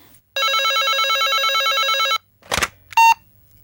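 A telephone rings with a warbling electronic bell burst lasting about two seconds, loud and close. A brief short voice follows, then a single beep tone.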